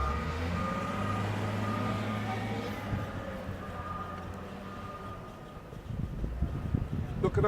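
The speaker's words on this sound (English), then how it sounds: "Big truck coming. Big digger coming." A big truck or digger reverses through snow in a Boston blizzard, its repeated beeping alarm sounding over a low diesel engine rumble, with people talking nearby.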